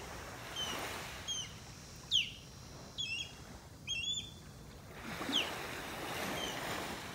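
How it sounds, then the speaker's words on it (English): Sharp, high-pitched osprey calls ring out in short bursts, a few separate cries spaced over several seconds above a soft, steady wash of water on a beach in North Naples, Florida. "That's the osprey you're hearing."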